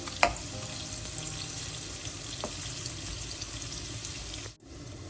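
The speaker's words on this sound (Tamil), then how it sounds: "இதை நான் இப்போ பொரிச்சு எடுக்க போகிறேன்" Marinated paneer pieces shallow-frying in hot oil on low heat for paneer biryani, a soft steady sizzle with a couple of sharp pops and a brief cut near the end.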